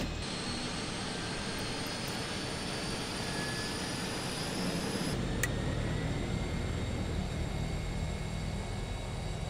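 The number 2 turboprop engine of a DHC-6-300 Twin Otter runs up on start, giving a steady loud roar with a rising tonal whine that thickens at low pitch partway through, heard close from inside the aircraft.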